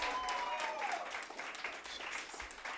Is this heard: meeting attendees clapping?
yes